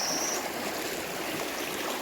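Steady river water flowing past a village, a continuous close rushing and trickling wash with no voices over it.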